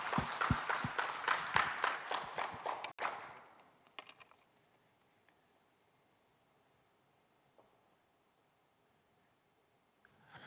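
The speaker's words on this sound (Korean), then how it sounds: "여러분 큰 박수로 격려해 주시기 바랍니다" An audience applauds a speaker walking on stage at a community innovation lecture, with dense, loud clapping that ends abruptly after about three seconds, leaving a quiet room with faint rustles and a few small knocks.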